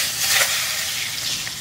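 Potatoes dropped into a hot pot for khichuri sizzle and hiss steadily, a close, bright frying crackle that stays loud throughout with no talk over it.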